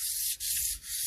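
Hand sanding of a wheel with 400 grit sandpaper, a steady continuous rubbing hiss that dips twice briefly as the strokes change direction, close and fairly loud with no talk.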